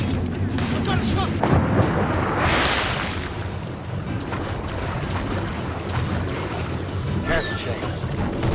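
Mortar fire strikes a sailing ship in the naval combat of Assassin's Creed Rogue: a heavy booming burst followed by a rushing crash of debris and spray, set against a constant roar of wind and sea.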